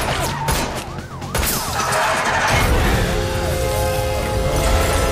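Gunfire aimed at car tires in a chase scene, with sharp impacts and crashes over loud engine roar and a siren-like whine, plus brief voices.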